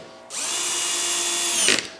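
A power drill drives 3.5 by 16 screws into a wardrobe drawer frame: one steady, loud, close whine lasting over a second, ending in a brief strained surge as the screw seats.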